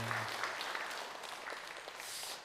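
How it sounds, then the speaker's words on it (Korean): A church congregation at a Sunday service applauds to welcome the choir leader, a faint, dense wash of clapping from a distant hall lasting a couple of seconds. "일어나셔서 인사하실 때에 큰 박수로 환영해 주시기 바랍니다"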